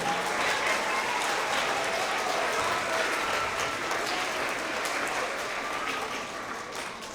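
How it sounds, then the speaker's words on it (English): Sustained, steady applause from a school audience at a spring award assembly for third to fifth graders, a dense wash of clapping that holds for the full stretch and eases slightly near the end. "let's have just another big round of applause for all of our students today"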